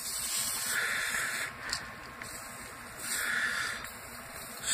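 Two bursts of hissing aerosol cleaner sprayed into an engine cylinder during honing, each lasting over a second, close by, with a quiet pause between them.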